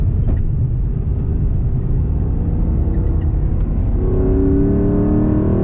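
An Aston Martin V8 Vantage on a race track, engine droning loud and close as it accelerates under power, the low rumble building steadily with rising harmonic tones toward the end.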